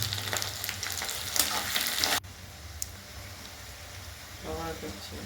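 Spices for a pabda fish curry frying in a pan over high flame, a steady close sizzle and stirring hiss that drops to a quieter simmer partway through, with a brief voice near the end.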